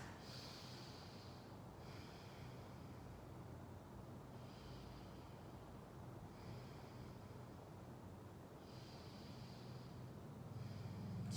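Slow, deep yoga breaths, faint and close, repeating as soft airy inhales and exhales every couple of seconds in a quiet room.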